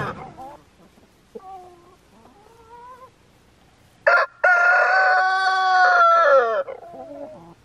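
A rooster crows loudly and at length, preceded by softer, shorter bird calls and clucking; no talking.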